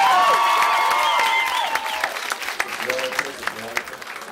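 An audience at a talent show in a Varna disco club breaks into applause and cheering, a dense patter of clapping under music and talk that trails off into scattered individual claps.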